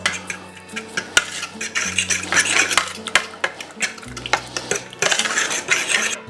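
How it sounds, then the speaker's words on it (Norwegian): Pizza dough for a Neapolitan pizza being stirred in a bowl, with repeated scraping and clinking of a utensil against the bowl in an uneven rhythm, close and fairly loud, with no talking. "Og så er det bare å begynne å røre."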